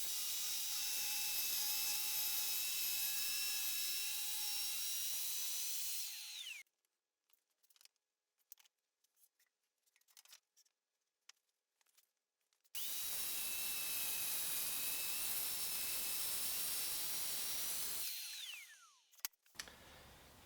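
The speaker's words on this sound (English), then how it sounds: "I like to start with my track saw to get one square edge and to break down this plywood into a little bit more manageable pieces" A track saw cuts through a sheet of plywood in two long, loud, steady passes, each revving up, whining through the cut and winding down, with quiet handling noises in the pause between.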